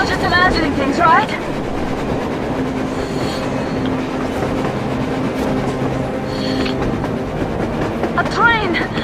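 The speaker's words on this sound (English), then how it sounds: "A train! A damn train on the surface!" A train rolls past in the video game Metro Exodus, a loud rumbling rail passage with clattering wheels and squealing tones, while voices shout over it at the start and end.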